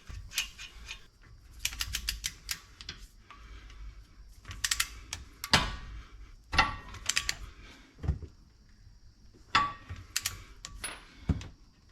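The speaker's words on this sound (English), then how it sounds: "I'm going to tighten these up to about 130 foot-pounds of torque." Wheel stud nuts are wrenched down toward 130 foot-pounds on the front hub of a 2017 Ram 3500 dually during a wheel bearing job. Sharp, close metallic clicks and ratcheting bursts come in uneven clusters separated by quiet gaps.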